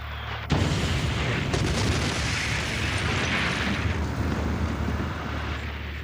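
A sudden deep boom erupts after a brief quiet moment, followed by a long rumbling roar that fills the space: a Beirut warehouse holding 2,700 tons of ammonium nitrate exploding after stored fireworks ignite.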